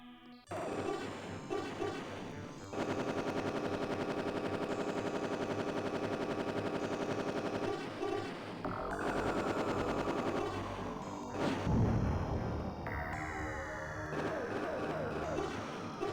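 Missiles and bombs fired in the DOS game Galactix, a loud continuous barrage of rapid synthesized shots and blasts with descending bomb tones and crashing bursts running nearly throughout.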